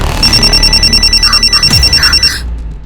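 A telephone rings loudly and close in rapid repeated trills, a steady electronic bell pattern that cuts off abruptly.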